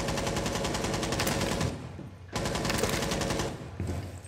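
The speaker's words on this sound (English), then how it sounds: "They're shooting through the wall there." Rainbow Six Siege gunfire through a wall: sustained rapid automatic bursts, loud and crackling, broken by a short pause before another long burst, with no talk over it.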